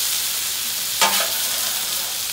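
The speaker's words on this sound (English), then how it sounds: "all I'm doing is scraping it with my spatula right now, moving it down to that grease trap" A metal spatula scrapes a hot, greasy griddle, pushing residue toward the grease trap while teriyaki chicken skewers cook: a steady sizzle carries throughout, with one short, sharper scrape about midway.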